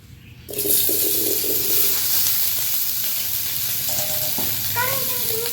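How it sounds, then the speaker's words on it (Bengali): Potatoes fried in oil for a rohu fish curry with cauliflower, producing a steady close sizzle with some stirring and watery bubbling throughout, plus a few faint tonal clinks near the end. "ভেজে নিব আলু।"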